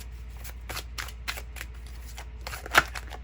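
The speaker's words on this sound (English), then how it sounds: "I'm going to grab 3 cards here" Tarot cards from the Tarot of Mystical Moments deck being handled and drawn, giving a series of soft, rhythmic, close card flicks and slides, ending in one sharper snap, with no talking.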